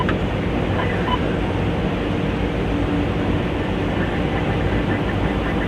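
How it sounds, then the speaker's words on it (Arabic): A Singer sewing machine motor runs after a control board repair, giving a steady, continuous hum at even loudness throughout. "الموتور بتاعنا اشتغل اهو،"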